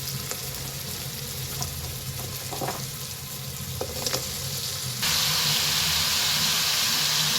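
Pumpkin pieces fry with tomato in a pan, giving a steady close sizzle with faint stirring scrapes, the hiss brightening and growing louder toward the end.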